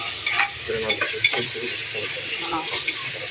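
Biryani masala gravy sizzles and fries in a pot for a Kerala biryani, with steady scraping stirs and occasional clinks of a utensil against the pan, close and continuous with no talking.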